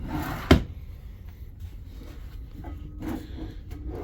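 A cabin drawer aboard the cruise ship Radiance of the Seas slides and knocks shut with one sharp wooden clack, followed by softer rattles and a faint bump against quiet room hum.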